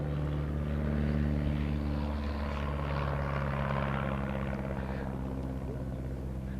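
A de Havilland Chipmunk aircraft flying at the Shuttleworth air show, its steady engine drone heard beneath people talking, swelling slightly and then easing off toward the end.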